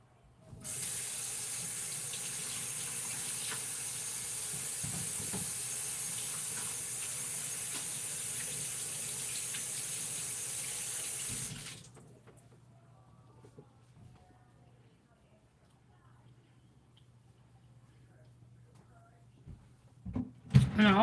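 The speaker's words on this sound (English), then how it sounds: "Well, I'm gonna rinse off my hands." Tap water runs steadily into a kitchen sink as hands are rinsed, a loud even hiss for about eleven seconds before shutting off, leaving quiet room noise and faint clatter.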